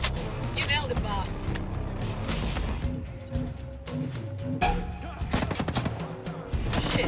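Gunfire in the video game Ghost Recon Breakpoint, with sharp rifle shots and short bursts popping near and far over engine rumble and game effects, with voiced chatter in between.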